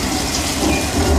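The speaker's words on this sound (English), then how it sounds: "Now here is rain." Studio rain effect made by a sprinkler system pumping water through overhead pipes on a film studio tour, heard as a steady, broad hiss of falling water with a low rumble underneath, continuous and fairly loud.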